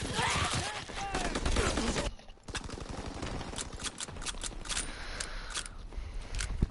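Shotgun gunfire in Call of Duty WWII multiplayer, a dense burst of close-range shots followed by a short lull and then a string of sharp separate reports, with battle noise underneath.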